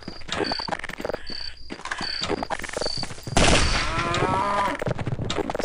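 A zombie cow in the Half-Life mod They Hunger moos loudly over chirping insects, with sharp, rapid bursts like gunfire breaking in and a louder stretch near the end.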